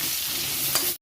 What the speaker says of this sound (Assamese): এয়া আলু ভাজি হৈছে আলুখিনি অকণমান ডাঙৰ ডাঙৰকৈ দিছোঁ